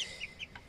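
Young chickens, chicks and cockerels of the Bielefelder breed, give a few high, close peeping cheeps and clucks in quick succession, faint and alone.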